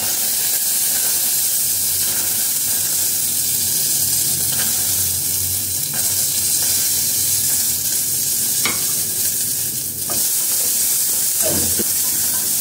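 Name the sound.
turkey berries sautéing in a pan for chutney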